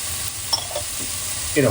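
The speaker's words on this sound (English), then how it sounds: "The cauliflower is frying." Cauliflower sizzles and crackles steadily in a hot pan, with a brief clink of a utensil stirring near the end.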